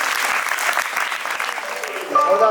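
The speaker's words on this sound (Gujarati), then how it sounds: "જોરદાર તાળીઓથી આપણે એનું અભિવાદન કરીએ." An audience at a school cultural program claps in steady, dense applause, with a voice starting to speak near the end.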